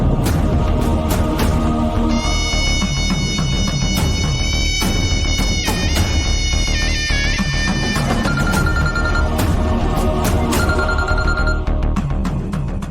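A phone rings in a Tamil TV serial scene, a bright repeating electronic tone sounding over dramatic background music with sharp hits, loud and continuous for several seconds.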